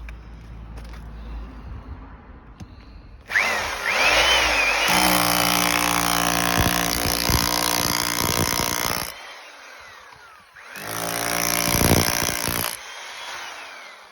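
A Hilti TE104 breaker hammers at concrete 4 to 5 inches thick, with a loud, dense rattling burst of about five seconds, a pause, then a shorter second burst, close by.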